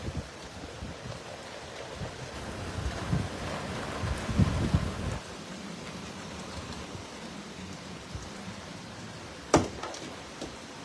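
Rain falls outdoors in Ajmer as a continuous diffuse wash, with gusty wind-like rumbling rising midway and a sharp isolated crack near the end.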